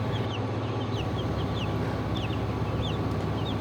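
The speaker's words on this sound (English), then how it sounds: "mother hen is pecking at stuff, they all run to see if it's anything good to eat" Chickens cluck softly on a farm, where a mother hen moves among seven young Dominique and Dominique-Bielefelder cross chicks; short chirps and calls repeat over a steady, fairly noisy background.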